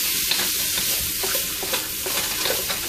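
Food stir-frying in oil in a pan for a cheap Chinese-style stir fry, a close, busy sizzle broken by rhythmic spatula scrapes and tosses, no speech.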